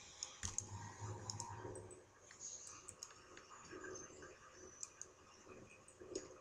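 A computer mouse clicks in quick, light, close taps during a Torchlight 2 gaming session, spread irregularly over a quiet room background.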